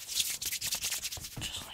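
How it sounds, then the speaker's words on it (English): Sprayed lotion is rubbed briskly into skin during an aggressive ASMR massage, giving close, rhythmic swishing strokes that repeat steadily with no talk. "Just rub that in a little bit like that."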